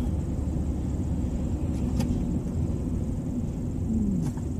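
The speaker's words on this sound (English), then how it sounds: "I know it's a little car, but it can get up the hill at the relative speed." Small car's engine hums steadily as it climbs a hill at moderate speed, a continuous low rumble with road noise from inside the cabin and no speech.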